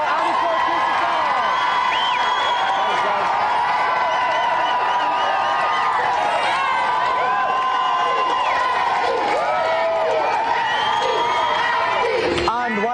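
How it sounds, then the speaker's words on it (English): A studio audience applauds and cheers at a televised game show, with sustained clapping, whoops and shouts filling the room throughout. "A round of applause again for our two special guests tonight, Andy Clark."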